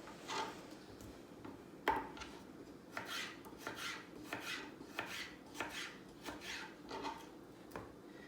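Knife slicing chicken thin on an Epicure cutting board with silicone feet, for fajita wraps: a series of crisp, close taps and scrapes in a steady, uneven rhythm, with no talking.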